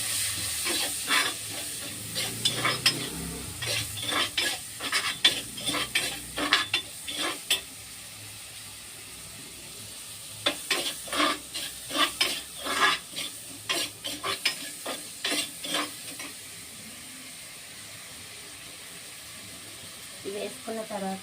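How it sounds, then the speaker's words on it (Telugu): Onions fry in a pan for a leftover chapati dish, their soft sizzle broken by repeated clacking bursts of stirring that come in clusters, pause, then resume. "ఇవి వేసుకున్న తర్వాత కొంచెం ఇట్లా ఫ్రై మామూలు ఒక ఎర్రగా అయ్యేటట్టు కొంచెంసేపు చూసుకోవాలి"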